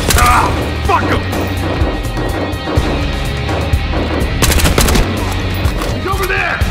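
Rapid gunfire in the first-person shooter Battlefield Hardline crackles through a firefight, loud and dense with bursts of shots and impacts, while shouting voices break in over the combat.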